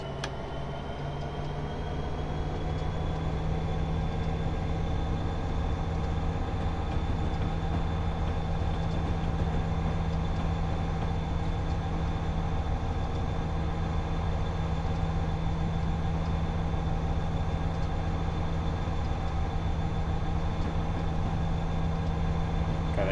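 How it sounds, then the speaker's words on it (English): A freight train hauled by an EMD SD75 locomotive in a train simulator game rumbles steadily with a constant low drone and engine hum, running continuously without pause and nothing else heard. "Don't worry, this will speed up hopefully fairly soon."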